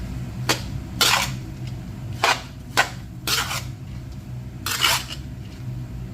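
Rice with seasoning powder stir-fried in a pan for zongzi: about seven quick, scraping spatula strokes and clatters at irregular intervals, close and fairly loud, over a low, quiet background.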